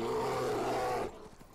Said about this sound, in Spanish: Vale, un oso.